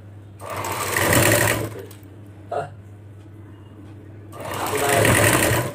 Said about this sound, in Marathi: आता माझी ही टिप मारून झाली.